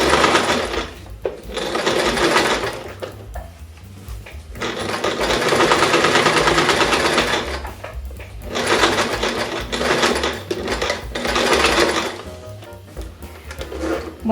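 A sewing machine runs in loud bursts of rapid, steady stitching as it sews a zipper onto fabric, with short pauses between runs.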